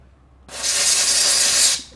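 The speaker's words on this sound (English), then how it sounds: "now I'm just going to spray some compressed air on this guy." A single burst of compressed air hisses loudly and close by for just over a second, sprayed onto a snowblower carburetor, then cuts off.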